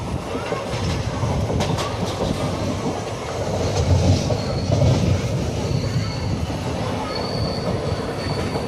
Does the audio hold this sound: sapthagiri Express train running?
yes